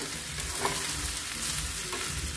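Chicken rice frying in a pan while being stirred, a steady close sizzle with soft scraping of the spoon running throughout, no voices.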